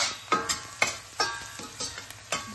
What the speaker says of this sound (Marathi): याच्यामध्ये आपण आता हळद आणि मीठ टाकूया। याला पण छान असं परतून घेऊया।